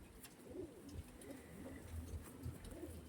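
A Star Kalanka pigeon coos in a steady series of about five deep, rounded, rolling calls, close and fairly quiet, with no talking over them.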